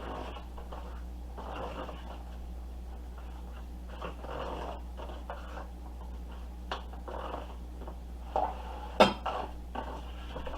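A metal spoon stirs flour into compound butter in a bowl while Cornish hens are prepared for the oven: faint scraping and soft clinks against the bowl, ending in a few sharper taps, all over a low steady hum.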